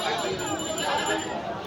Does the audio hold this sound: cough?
no